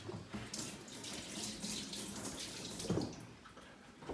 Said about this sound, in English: I'll wash this.